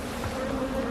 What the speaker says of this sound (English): they are a little bit annoyed that we are inside the hive when it's gloomy